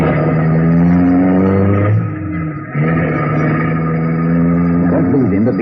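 An old-time radio drama car effect of an engine revving up as the car pulls away in pursuit. A loud, steady motor drone with one brief dip in the middle, close and continuous, and no voices over it.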